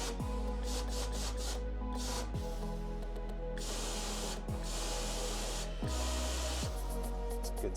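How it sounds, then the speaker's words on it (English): Compressed air blown through the fuel line of a 1957 Chevrolet Bel Air, hissing in several long bursts with short gaps between them, close and fairly loud over a constant low hum. "I'll blow out this fuel line"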